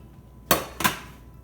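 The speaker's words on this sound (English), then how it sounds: "And now for the final stir." Homemade chili in a pot gets a final stir, giving two sharp metallic clinks of a utensil against the pot about a third of a second apart, close and distinct in a quiet kitchen.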